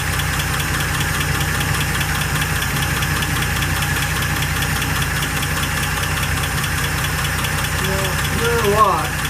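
A 1948 Pontiac Torpedo engine, being restored, runs at idle with a loud, even, ticking rumble, heard up close throughout, and a short voice comes in near the end.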